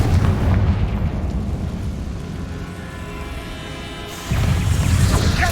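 A Confringo fire spell blasting in the Hogwarts Legacy video game, a loud booming burst that rumbles and fades, followed by a second heavy impact near the end.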